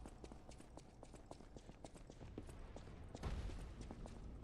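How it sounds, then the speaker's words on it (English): Heavy footsteps from a large unseen creature in the video game Lies of P, a steady run of thudding steps at a walking rhythm, fairly faint and distant, swelling with a louder impact near the end. "I hear really big footsteps."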